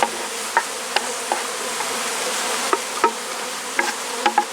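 Honey bees buzz steadily around a freshly made hive split, a dense close drone with scattered louder passes of single bees flying near and away.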